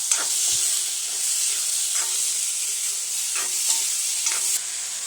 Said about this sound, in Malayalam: എണ്ണ നന്നായി ചൂടായിട്ടുണ്ട്. ഈ സമയത്ത് നമുക്ക് ചെറിയുള്ളിയും സവാളയും അരിഞ്ഞത് ഇട്ട് കൊടുക്കാം.